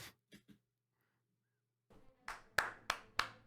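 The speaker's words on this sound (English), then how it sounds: "It's clapping as well" A few sparse taps at first, then a run of distinct, close hand claps in a slow, even rhythm after a short silence.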